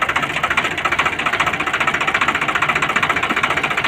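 A tractor engine runs loud and close with a steady rapid knocking beat, no voices over it.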